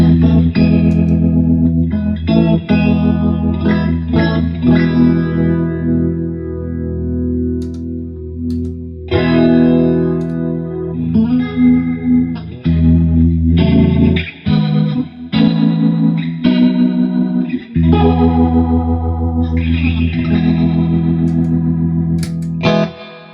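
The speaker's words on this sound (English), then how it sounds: "let's just turn on my Leslie pedal just for the fun of it" Fender electric guitar through a Leslie rotary pedal, with a swirling, warbling rotary-speaker effect, strummed chords and riffs played continuously with brief pauses, loud and close.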